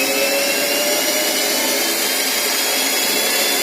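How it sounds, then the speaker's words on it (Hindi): Electric drill machine running continuously, a loud, steady high-pitched motor whine with no speech. "आपके सामने ड्रिल मशीन चालू हो गई अपनी।"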